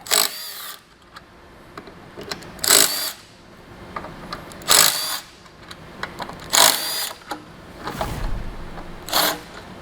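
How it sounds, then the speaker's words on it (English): A ratchet fitted with an 8mm socket loosens the bolts holding a throttle body onto the factory intake of a 2018-or-later Mustang GT, giving several short bursts of clicking, close up with quiet gaps between them. "Now we're going to pull the throttle body off of our factory intake using 8mm"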